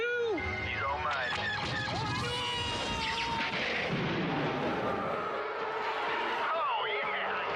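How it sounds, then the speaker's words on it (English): Loud explosive blasts and a torpedo launch boom in a Star Wars space-combat video game, crashing over a busy background of laser and engine sounds, with a voice speaking during it. "I'm gonna launch my torpedo in 3, 2."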